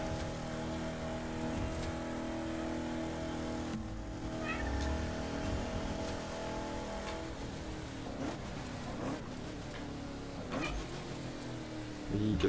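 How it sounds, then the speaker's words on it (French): A cat meows a few faint times in the room, buried under the steady drone of racing-game car engines and hum. "si vous entendez un chat miauler"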